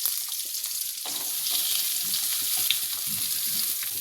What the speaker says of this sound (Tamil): ஒரு ரெண்டு டீஸ்பூன் எண்ணெய் ஊற்றினா போதும் கொஞ்சோண்டு கடுகு ரெண்டு மிளகா கிள்ளி போட்டுக்கோங்க